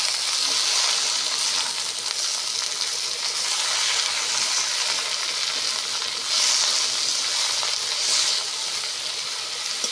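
Mixed field greens fry with turmeric and salt, giving a loud, continuous sizzle close up. The hiss swells now and then as the greens are stirred and tossed in the pan.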